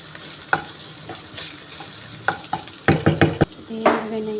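Fried potatoes and carrots stirred in a pan with browned chicken, giving scattered scraping taps and then a quick run of clattering strokes over a soft sizzle.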